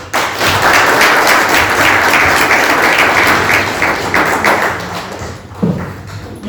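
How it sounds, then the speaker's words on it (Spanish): Applause from an audience at a school book-presentation event, welcoming a speaker; dense, steady clapping fills the room for several seconds before tapering slightly near the end. "La vamos a recibir con fuertes votos de aplauso"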